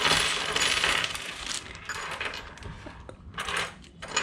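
Metal nuts and bolts from a motorbike travel tool kit clinking and rattling as they are handled, a continuous bright jingle of small metal parts with several sharper clinks, close and fairly loud.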